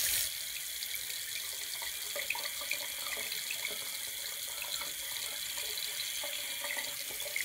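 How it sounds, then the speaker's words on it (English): Water runs steadily from a tap as a plastic pBuddy urinal device is rinsed under it, a constant hissing splash that stays even and close with no voices. "if you rinse it every day, as shown here, it should stay quite clean"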